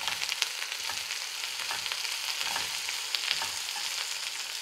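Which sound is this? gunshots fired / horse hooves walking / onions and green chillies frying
onions and green chillies frying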